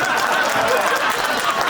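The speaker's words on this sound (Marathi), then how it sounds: "टाळ्या." Applause from an audience at a tribal Dhangar literary conference in Chandwad, Nashik, a dense broadband patter of many hands clapping steadily throughout, with some crowd murmur mixed in.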